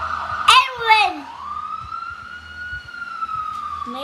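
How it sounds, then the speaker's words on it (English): An ambulance siren holds a steady, sustained wail through most of the stretch, with a couple of brief, pitch-bending vocal sounds near the start and a faint rumble underneath. "It's an ambulance."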